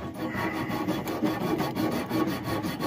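Close, steady rasping and rubbing as burrs are cleaned off the end of a freshly cut copper water supply pipe for a water heater, a continuous scraping texture with rhythmic strokes and no talking.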